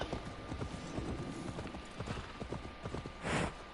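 Horse hooves in the Assassin's Creed Valhalla video game clop in a quick, steady galloping rhythm, close and prominent throughout, with a brief breathy burst near the end.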